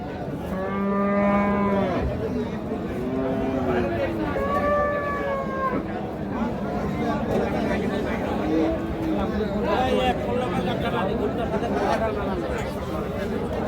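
Sahiwal bulls at a livestock market in Noakhali give several long, drawn-out moos, some loud and close. Constant crowd chatter and bargaining voices run underneath.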